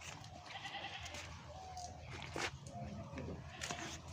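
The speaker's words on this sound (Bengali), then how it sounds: "বিশেষ করে এই ছাগলগুলো এই যে দেখেন বিটেল ক্রস" Beetal cross goats and their young kids at a farm, with bleats rising over a steady low background hum and a voice speaking nearby.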